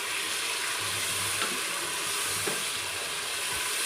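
Peas and potatoes cook in a pan for matar pulao, giving a steady hissing sizzle close by with a faint low hum underneath and occasional soft stirring touches.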